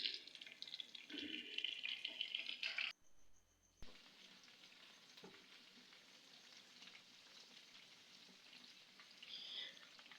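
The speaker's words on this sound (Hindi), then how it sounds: "इस तरह बाकी भी चिकन को जो मैंने मैरिनेट करके रखा हुआ है उसे भी मैं फ्राई कर देती हूँ।" Marinated chicken pieces sizzle steadily in hot oil, a soft continuous crackle close by with a brief quiet gap partway through, then the frying resumes at an even level.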